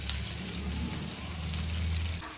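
Fish sizzling and crackling in hot oil in a pan during lunch cooking, a steady close frying hiss throughout with no talk.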